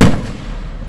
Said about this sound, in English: This is real fireworks, not fake.